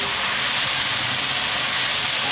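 Okra and halved green chillies frying in oil in a pan, a dense, steady sizzle and crackle filling the whole stretch at close range with no pauses.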